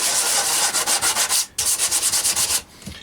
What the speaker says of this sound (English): just give the bottom of it a little bit of a rub again, just to get rid of where the drill's broken through